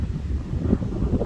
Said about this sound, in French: Par contre, le vent, calme-toi, s'il te plaît.